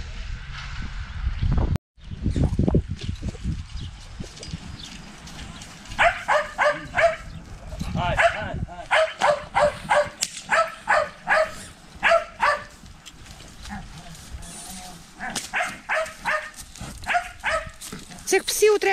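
Several dogs bark in repeated bursts on a farm where foals are being moved to pasture, the barking loud and nearby and continuing through most of the stretch after a brief voice at the start.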